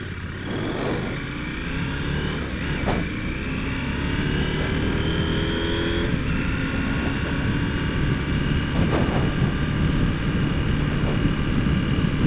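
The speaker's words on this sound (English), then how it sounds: "Get this thing up to speed and see what we can do." A 2024 KTM 790 Adventure motorcycle accelerates on a highway, its engine note climbing steadily through the gears under a constant roar of wind and road noise, loud and close.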